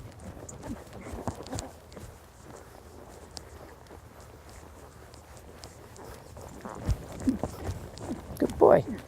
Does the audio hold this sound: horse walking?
yes